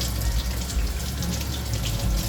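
Leek stalk being rinsed under a running kitchen tap with cool or lukewarm water, a steady close splashing rush that continues unbroken with no voices.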